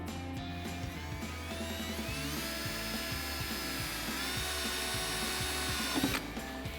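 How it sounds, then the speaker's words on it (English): A power drill with a 3/4 inch step bit bores through the plastic of a cold air intake for a Ford F-150 EcoBoost, a steady close whine with a pulsing rhythm running throughout and no speech. "We're just gonna drill in the center of this hole."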